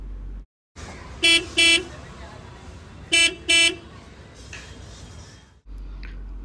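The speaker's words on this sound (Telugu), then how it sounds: "ఇది స్టాక్ హారన్ సౌండ్," Two pairs of short beeps from a Tata Nexon facelift's stock horn, close and loud, with a pause between pairs over a quiet background hum.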